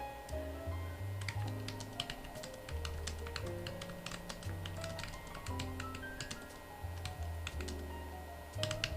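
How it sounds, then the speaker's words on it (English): A computer keyboard clicks in quick, irregular bursts of typing, fairly soft, over a steady background of music. "I got to type something real quick, guys, just to get work satisfied."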